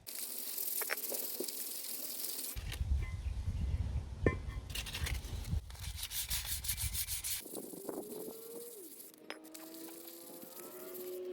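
Brake shoe and disc surfaces on a Nissan S15 Silvia handbrake drum being scrubbed clean, giving close, steady gritty rubbing and sanding strokes with occasional light metallic clinks, no talking.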